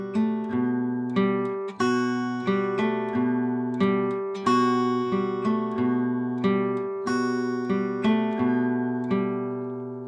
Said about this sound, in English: do almost the same picking pattern, except the bass is going to go between the 5th and 4th strings now